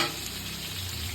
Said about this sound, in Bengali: আলুগুলো কি একদম লাল লাল করে ভাজবে?